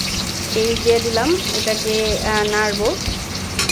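Onions frying in oil for a bottle gourd and prawn dish hiss steadily at close range, with a person talking over the sizzle.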